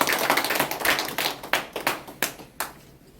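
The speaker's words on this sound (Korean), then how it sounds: "큰 박수로 환영해 주십시오." Applause from an audience at a press conference where North Korean defectors declare their support for a Seoul education superintendent candidate, a short burst of clapping that thins out and fades over a few seconds.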